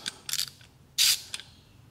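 A ratchet handled up close gives a few quick metallic clicks and a short buzzing ratcheting burst, then one last click, fairly faint in a quiet room.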